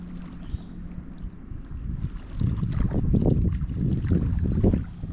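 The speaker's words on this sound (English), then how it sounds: "It's a bit harder to paddle." A kayak is paddled on open water, with soft splashing strokes and water sloshing against the hull under steady wind buffeting the microphone, growing louder partway through.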